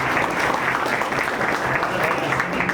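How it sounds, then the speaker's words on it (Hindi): An audience claps steadily at an anti-tobacco awareness event in Bhopal, a dense continuous patter of many hands, with a voice speaking over it. "इनके लिए भी जोरदार तालियां बजाइए।"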